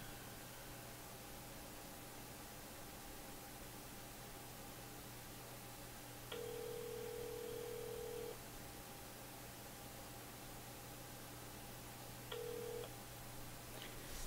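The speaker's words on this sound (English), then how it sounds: "let me jingle his phone, see if he's available." An outgoing phone call rings back twice, each long tone pulsing steadily over a constant hiss of line noise, with silence between the rings.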